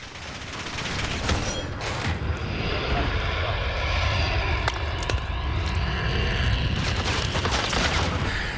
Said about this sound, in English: They got a Harrier again.